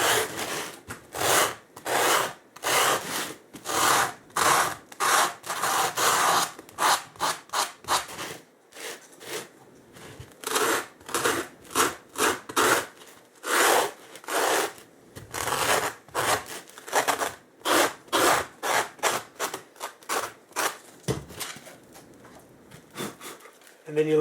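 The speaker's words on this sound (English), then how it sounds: "you can take your sanding block," Wooden artillery emplacement piece for a Warhammer 40k tabletop model being smoothed with a sanding block, a long series of quick rhythmic rasping strokes, close and fairly loud, with brief pauses between bursts.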